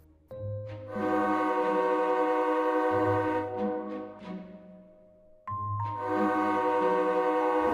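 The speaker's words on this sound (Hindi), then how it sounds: "दूसरी ओर पटरी पर ट्रेन आ रही थी।" A train on a railway track near a station, sounding loud sustained horn blasts with a break between them, the tones full and close over a low rumbling hum.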